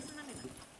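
Chilean huaso's horses running, a brief patter of clip-clopping hooves at moderate distance beneath a person talking.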